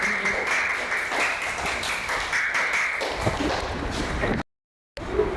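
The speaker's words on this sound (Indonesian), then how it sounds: "Tepuk tangan untuk kelompok 2." Classmates clap for the second group's presentation during a classroom group-discussion lesson, a steady patter of hands mixed with room noise, cut by a brief silence near the end.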